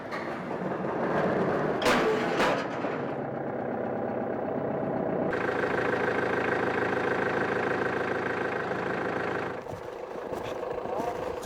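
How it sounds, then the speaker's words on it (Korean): A large tractor idles in deep snow, its steady mid-pitched engine rumble running throughout and briefly thickening in the middle, with speech heard over it. "반가운 마음에 따라가 보니 커다란 트랙터가 있습니다."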